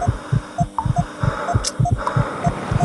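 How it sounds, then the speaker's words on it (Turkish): In the Pepi Hospital 2 game's flu clinic, a synthetic heartbeat thumps in a steady, quick rhythm of paired beats, accompanied by regular electronic monitor beeps and a low hum. "Kalp atışına bakalım."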